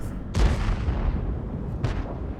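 Tank cannon fire in a tank video game, two sharp booming shots about a second and a half apart, each a loud close blast trailing into a rumbling decay.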